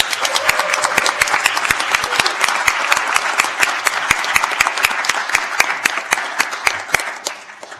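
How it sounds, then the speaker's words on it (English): Audience applause at closing remarks of a conference in New Haven: steady, dense clapping from a crowd with distinct sharp claps standing out, continuous throughout and tapering slightly near the end. "let's all give them another round of applause."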